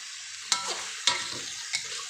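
Mixed meat with holy basil stir-fried in a wok, a steady sizzle broken by three sharp scraping strokes of the spatula spaced about half a second apart, close and alone.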